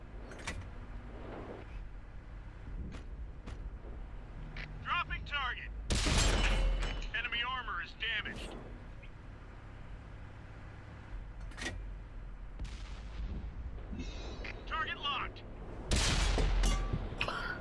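In World of Tanks, a Skoda T40 tank gun fires shells, giving two loud booming blasts several seconds apart amid engine rumble and battle noise, with someone talking throughout.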